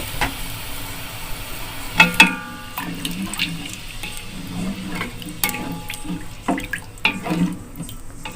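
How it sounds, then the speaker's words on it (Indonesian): Water poured into a cooking pot for a Betawi sour vegetable soup, with splashing pours and a few louder gushes, then intermittent trickles and clinks, fairly close. "tambahkan air ya guys."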